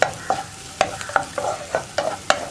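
Mixed fruit for pachadi sautéing in a pan, a soft sizzle under a quick series of about eight rhythmic spatula scrapes and taps, close with no voices.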